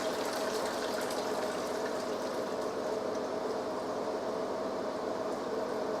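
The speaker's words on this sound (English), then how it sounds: "I'm going to drain the noodles now" Heavy pot of noodles and water being drained through a strainer, a steady broadband rush of pouring water running continuously and fairly loud throughout with no talk.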